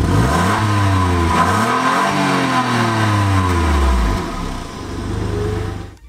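Close to the exhaust of a Toyota Aygo parked at a petrol station, the small engine revs loudly several times, its pitch rising and falling, then settles back toward a lower idle.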